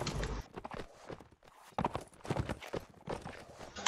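Horse hooves clip-clop in a video game battle scene, rhythmic steps set among shouting voices and other game noise, fairly close and moderately loud.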